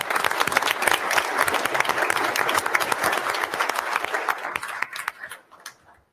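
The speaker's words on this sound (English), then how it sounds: "Round of applause once again for our athletes." Applause for athletes at a Board of Education meeting: dense, steady clapping from a crowd for about five seconds, then thinning out and fading to a few scattered claps at the end.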